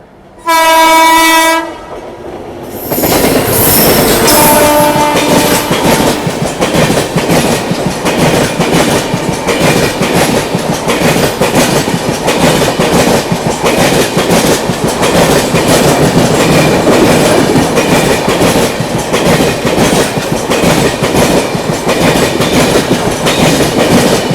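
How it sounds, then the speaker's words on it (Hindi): The 12433 MGR Chennai Central–Hazrat Nizamuddin Rajdhani Express approaches with a short, loud horn blast, then thunders past close by in a long, continuous roar with rhythmic clickety-clack of wheels over rail joints. "सामने से आती हुई 12433 MGR चेन्नई सेंट्रल हजरत निजामुद्दीन राजधानी एक्सप्रेस।"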